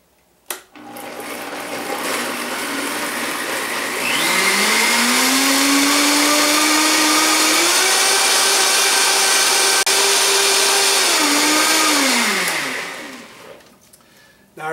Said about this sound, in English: Now we turn on our famous Vitamix that obliterates everything